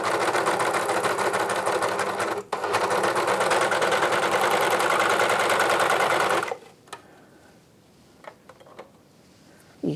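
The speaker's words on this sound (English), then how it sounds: "If I've unthreaded and rethreaded my machine, I'll always do a bit of test stitching." A Janome 134D overlocker runs a steady, fast, loud stitching burst for about six and a half seconds, with a brief pause near the start, then stops and leaves faint handling clicks.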